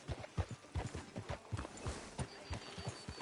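Horse hooves clip-clop at a steady walking rhythm in Red Dead Redemption 2, close and fairly quiet, with no voices over them.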